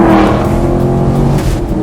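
Chevrolet Camaro SS 1LE in a blue wrap accelerating on a racetrack, a loud, steady, close engine roar with a deep rumble sustained throughout, no talking.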